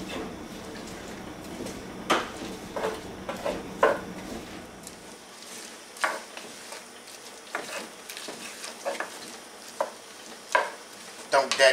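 Vegetables for crawfish étouffée sautéing fast in a pot over raised heat, a soft sizzle beneath repeated scraping and clanking stirs of a utensil against the pot, close and fairly loud, no speech.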